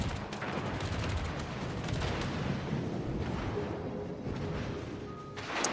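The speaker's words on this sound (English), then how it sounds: "Shots from the battleship in the middle on Vlad." Heavy battleship gun salvos in a competitive naval battle game: a dense, rumbling wash of booming fire with a few sharper cracks, continuous and loud, with faint commentary under it.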